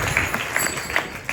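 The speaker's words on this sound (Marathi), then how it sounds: "एकदा टाळी वाजवा" Audience clapping at a kirtan gathering at an ashram, a brief dense burst of applause from a crowd, fairly loud and continuous.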